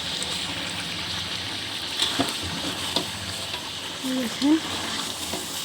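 Ginger garlic paste frying in hot oil, a steady close sizzle broken by the scrape and clatter of a spoon stirring the pan, with a brief spoken word near the start.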